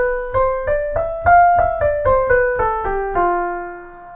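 An F Lydian scale is played as a run of about nine separate, clean pitched notes at an even pace, each one struck and left to decay, with the last note held longer.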